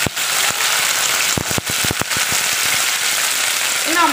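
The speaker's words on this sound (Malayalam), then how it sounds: "കടുകൊക്കെ പൊട്ടി തുടങ്ങിയിട്ടുണ്ട്." Mustard seeds pop in hot coconut oil over a steady loud hiss, with scattered sharp cracks that bunch together in quick bursts near the middle.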